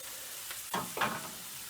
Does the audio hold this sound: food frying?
yes